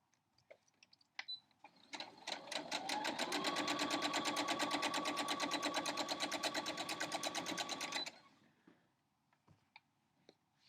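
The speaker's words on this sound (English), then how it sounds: "And you sew this edge together." A sewing machine stitches a quilt block edge in one continuous six-second run of rapid, even mechanical clatter, with soft handling clicks before and after.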